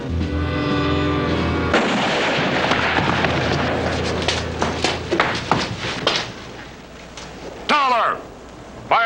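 Gunshots ring out in a television western. Loud, sharp cracks come in a rapid uneven volley, then a few scattered shots, with voices and soundtrack underneath.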